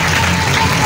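A church congregation clapping together in a dense, steady wash of applause that fills the space evenly and loudly from start to finish.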